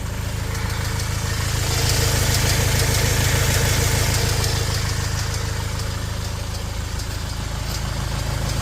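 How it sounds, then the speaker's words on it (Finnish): A Fiat Ducato 180 Multijet diesel van idles with a steady engine drone, and a fast, regular clicking tap sits on top of it, loud and near the whole time. "mikä tuo naputus se voisi olla?"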